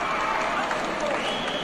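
Crowd noise at a televised AWA world title professional wrestling match, a steady roar of spectators cheering throughout, with commentary voices faintly mixed in.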